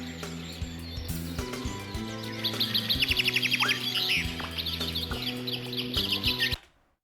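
Birds chirp in the 1992 MS-DOS game Alone in the Dark, bright rapid tweets layered over a steady low game drone and tones that cut off abruptly at the end.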